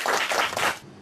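Short burst of audience clapping for chief guests at a quiz competition event, a few quick swells of applause fading out within a second.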